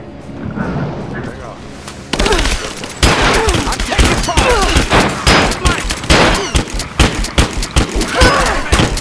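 Gunfire erupts in Rise of the Tomb Raider gameplay. After a quieter opening, rapid loud bursts of shots and thuds crackle close by in an irregular barrage, and a character shouts under the fire.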